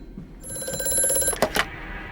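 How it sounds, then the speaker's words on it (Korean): A telephone rings in the horror game Amnesia: A Machine for Pigs, a steady metallic bell tone followed by a couple of sharper clacks as it ends. "맨더스에게 한 통의 전화가 걸려왔죠"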